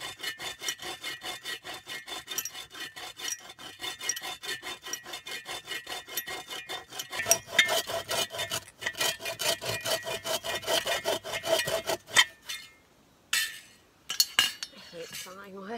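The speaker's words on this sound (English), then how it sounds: "I hate sawing wood." Hand sawing of wood at a backcountry campsite on Mannajigama Lake in Temagami: rapid, rhythmic back-and-forth rasping strokes, close and steady, briefly speeding up, then pausing into a few scattered scrapes near the end.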